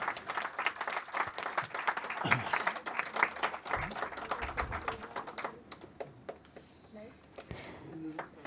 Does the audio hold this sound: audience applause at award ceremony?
yes